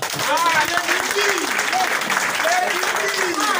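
A crowd at a Yoruba gathering applauds Lady B with steady, dense clapping that lasts throughout, while a voice keeps talking over it.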